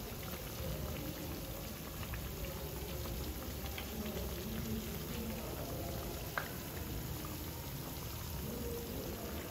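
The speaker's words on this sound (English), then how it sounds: "Let them be bouncing inside the oil, you know, and don't forget to fry on a very low heat" Akara bean fritters frying in oil on very low heat, a steady dense crackle and sizzle that runs unbroken for the whole stretch with no voices over it.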